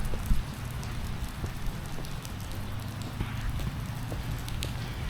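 Rain falling steadily in McGehee, Arkansas, a railroad town in the Lower Delta, a constant broadband hiss with scattered drops, heard alone throughout.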